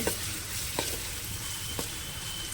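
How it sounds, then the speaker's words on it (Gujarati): Onion and capsicum fry in oil in a home kitchen, giving a continuous dense sizzle with a few soft stirring scrapes of a spoon against the pan. "જો ડુંગળી થોડીક તેલમાં થઈ જાય ને પછી કેપ્સિકમ."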